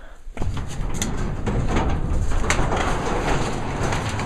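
A pigeon coos inside a building, its soft calls sitting under a steady, loud broadband rush after a brief knock at the start.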